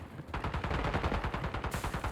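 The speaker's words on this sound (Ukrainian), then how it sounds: "там стріляються теж" Rapid automatic gunfire in the Warzone shooter game. A fast, steady burst of evenly spaced shots runs throughout at moderate level, with no talking.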